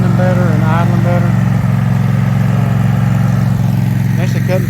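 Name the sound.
lawn mower engine idling while mowing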